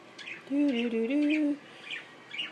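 Baby bird giving a soft, close chirp with a short two-part tonal call lasting about a second, followed by faint higher peeps, in a quiet indoor room.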